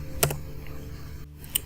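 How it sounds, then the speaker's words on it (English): Keys on a computer keyboard tap a few times at close range, two quick clicks early and another near the end, with quiet room tone between. "type your password"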